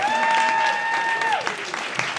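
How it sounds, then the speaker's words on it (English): Audience applause for a sports panel celebrating Black women, steady clapping beneath a sustained held voice or tone that slides down and fades, with a few sharper claps after. "So can we just have a massive round of applause for everyone?"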